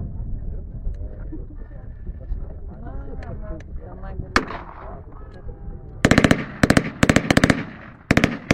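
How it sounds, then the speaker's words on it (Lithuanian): A German MG43 semi-automatic rifle fires in a partisan battle scene, heard as several loud, sharp bursts of rapid shots in the final seconds after a stretch of talking. "O čia kalba MG43 vokiškas pusautomatis šautuvas, kurį labai mėgo partizanai."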